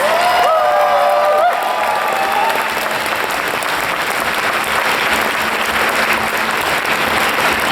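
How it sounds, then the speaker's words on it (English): Large convention crowd at a closing ceremony clapping and cheering, a loud, continuous wash of applause with a few whoops rising early on, sustained evenly to the end. "Please give them a big round of applause."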